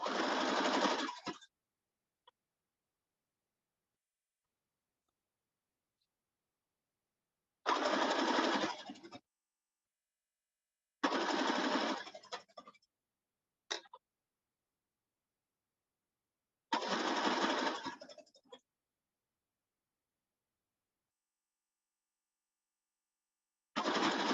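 Several separate bursts of a sewing machine stitching a serged seam on bell-bottom pants, each lasting one to two seconds with long silent gaps, including a quick slow pass over a thick seam hump.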